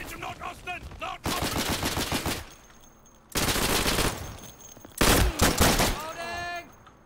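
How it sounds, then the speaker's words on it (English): Gunfire in the World War II shooter Day of Infamy, loud sustained bursts of automatic fire separated by short gaps, with a voice in between. "Sir, can you please stop shooting at me?"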